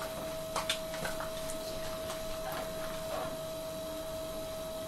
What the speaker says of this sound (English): adjust these transformers until the 1 kilohertz or roundabout-ish tone is at its loudest